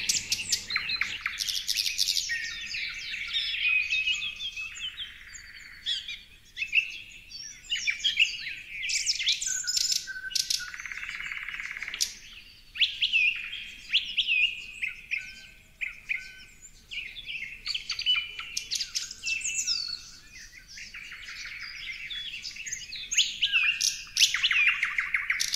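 Several birds singing in trees, with bright overlapping chirps and trills that continue in quick bursts throughout, clear and fairly close, with no voices.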